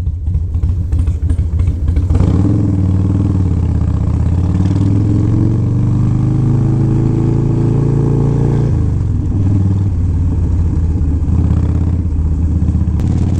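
Old Harley FXR motorcycle engine idling with a loud clattering rumble, then revving up into a sustained roar for several seconds before settling back, close and alone without talk.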